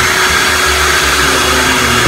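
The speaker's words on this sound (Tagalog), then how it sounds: "Eh, kailangan natin yung blow dryer na." A blow dryer runs close and loud with a steady, continuous roar while hair is prepared for curling, then cuts off abruptly at the end.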